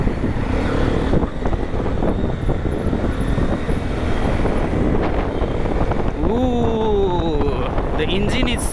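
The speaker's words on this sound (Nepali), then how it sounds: "The engine is so smooth man." Hero Xpulse 210 motorcycle engine while riding, a steady close drone mixed with heavy wind buffeting on the microphone, ending with a rising-falling whine as the revs change; a rider talks over it.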